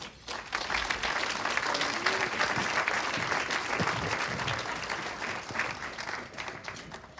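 A conference audience at a business and industry panel applauds steadily to welcome panelists to the stage, a dense, even wash of clapping that holds for several seconds before easing slightly.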